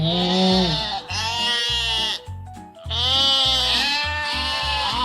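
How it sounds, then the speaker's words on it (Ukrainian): Loud, close sheep bleats repeat in a series of long, wavering cries, with one brief pause in the middle before the calls resume. "Правильно, це вівця. Вівця каже. Що вівця каже? Вівця каже. Бе."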